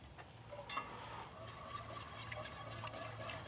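Milk poured into a cooked butter-and-flour roux in a kitchen, a soft steady liquid trickle with faint clinks, quiet and close, with no talk.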